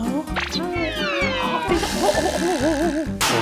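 A van-rescued cat meows repeatedly in a bathroom just before its first bath, several wavering, drawn-out cries up close, with a person talking softly underneath.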